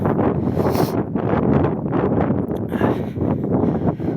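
Cold wind at about 4 degrees blows outdoors in early spring, buffeting the microphone in loud, continuous gusts and roaring rushes with no voices.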